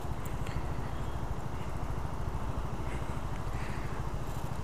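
Yamaha Tricity three-wheeled scooter rolling along at very low speed, a steady close engine putter with a dense, even rumble and wind, no talking.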